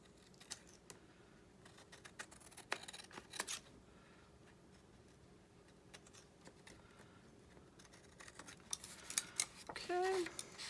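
Scissors trim the back of a paper journal piece with soft, scattered snips. A faint run of quick cuts comes near the end, quiet and close.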